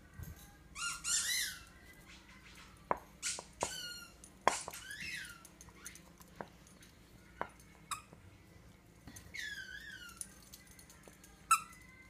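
A squirrel-shaped squeaky dog toy is squeaked in several short bursts, some in rapid pairs, with quiet gaps and a few soft knocks between.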